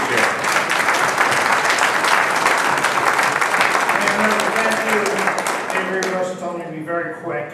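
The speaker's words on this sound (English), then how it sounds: "Rousing round of applause for Peter Scher." Audience at a mayors' press conference during the Democratic National Convention bursts into loud, dense applause that holds steady for several seconds, then tapers off as a speaker's voice begins.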